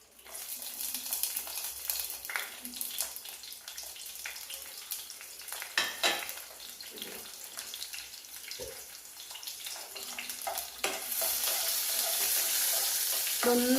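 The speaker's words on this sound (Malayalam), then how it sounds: "കുറച്ച് ചെറിയ ഉള്ളി അരിഞ്ഞത് ഇട്ട് കൊടുക്കാം" Chopped shallots fry in Milma ghee in a pan, a continuous close sizzle broken by spoon scrapes and stirring clatter, growing louder and brighter toward the end.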